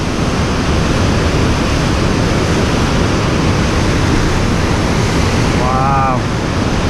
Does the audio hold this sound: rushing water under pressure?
yes